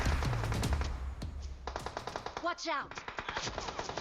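Rapid automatic gunfire from the PUBG Mobile video game rattles in loud, dense bursts of close shots, broken by a brief pause, while someone talks over it.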